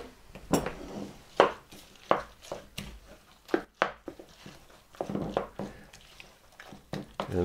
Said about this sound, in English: we're going to mix that into the batter